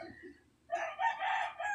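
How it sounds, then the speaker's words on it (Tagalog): A rooster crows once, loud and close, a drawn-out call following a brief soft cluck. "Tsaka yung mga manok namin"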